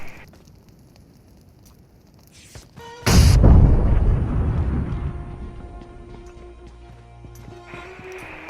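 A molotov cocktail thrown in the BGMI battle royale mobile game shatters with a sudden loud burst, followed by a roaring fire that slowly fades over several seconds under faint game ambience.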